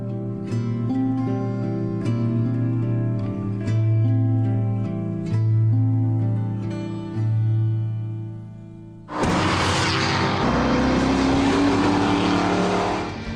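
A powerful Roadster sports car engine revs and roars as it drives, shifting pitch through gears, then bursts into a louder, harsher acceleration near the end.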